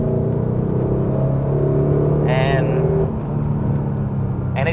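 A Mercedes R129 with an upgraded suspension setup and stock sway bar driving along, with a continuous engine hum and road rumble heard from inside the cabin and brief higher whirring moments.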